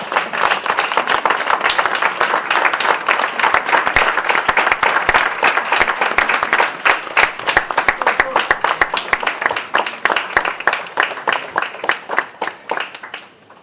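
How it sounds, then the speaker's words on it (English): Sustained audience applause at a book launch, dense clapping from a crowd holding steady and loud for about ten seconds, then thinning into scattered claps and fading out near the end. "let your applause be relentless for this wonderful moment."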